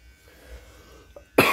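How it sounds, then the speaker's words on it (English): A single sharp cough bursts out near the mic after a quiet stretch, loud and abrupt, with a faint small sound just before it. "I was coughing a little bit"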